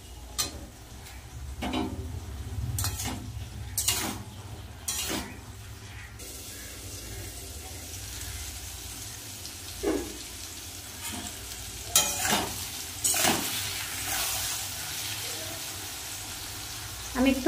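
Eggplant and broad beans with a little turmeric fry in a pan, giving a continuous sizzle broken by repeated stirring scrapes and clatters, close by, with someone talking intermittently over it.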